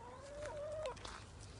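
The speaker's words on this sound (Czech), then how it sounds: "To jsou naše slepice." A single short hen cluck with a rising squawk, quiet and fairly close, against a faint low background hum.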